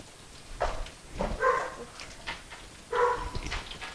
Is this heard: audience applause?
no